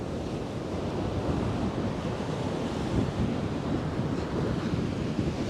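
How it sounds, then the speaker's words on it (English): Strong wind buffeting the microphone over crashing ocean surf at Coney Island beach, a continuous dense roar with no pauses, loud and close. "a very windy Coney Island, where the water is coming up"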